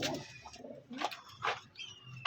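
Pigeons coo softly nearby in a few rolling, throaty calls separated by brief pauses, fairly faint with no talk over them.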